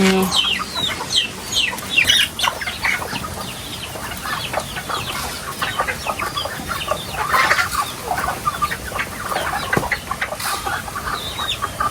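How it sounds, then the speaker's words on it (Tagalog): Several native chickens cluck and chatter nearby, overlapping calls in a busy, continuous flock sound with little else around. "Native na manok."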